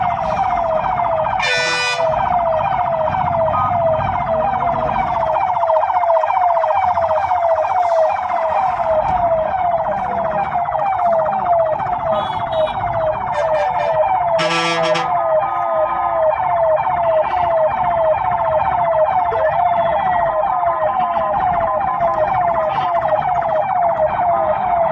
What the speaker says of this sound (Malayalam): അത്യാസന്ന നിലയിലായ രോഗിയുമായി പോയ ആംബുലൻസിനെ സ്വകാര്യ ബസ്സുകൾ വഴിമുടക്കിയത്.